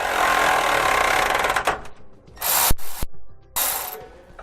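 A 13mm socket on a ratchet turns a nut off a bolt while a 15mm wrench holds the other side, giving close, loud ratcheting clicks in several bursts, with brief pauses between strokes.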